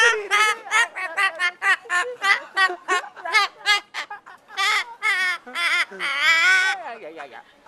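Daphne the parrot squawks and chatters in a rapid string of sharp, harmonic bursts, loud and close, sometimes in word-like voice imitations with short pauses between calls.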